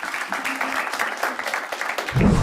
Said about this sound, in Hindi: जोरदार तालियां तेजस्वी के लिए।